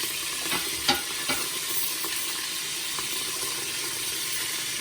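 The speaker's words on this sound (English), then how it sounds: "Stir it around." A pork chop marinade being stirred in a bowl, soft repeated scraping and clinking strokes over a steady wash of background hiss, close but fairly quiet, with no voices.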